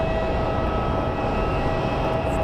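An airliner at Phoenix Sky Harbor International Airport produces a steady, broad engine roar with a faint high whine, constant and moderately loud throughout.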